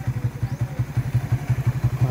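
A Suzuki Raider 150 motorcycle idles close by with a fast, even, throbbing engine pulse that holds a steady rhythm throughout.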